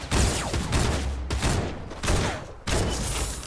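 A new weapon fires in the video game Fortnite Battle Royale, in four loud, close bursts of rapid gunfire separated by brief pauses.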